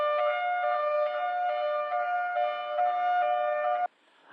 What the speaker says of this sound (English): In a rare instance, there's a high-low sound,